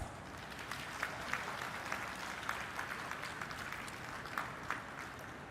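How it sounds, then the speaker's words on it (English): An audience at a groundbreaking ceremony applauds, a faint, distant wash of steady clapping with scattered sharper claps rising above it. "a very big round of applause"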